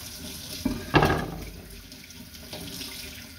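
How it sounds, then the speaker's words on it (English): Tap water runs into a sink while a King George whiting is rinsed after scaling, a steady splashing stream with a couple of sharper splashes near the start, then settling to a softer flow. "Give it a rinse off in the water."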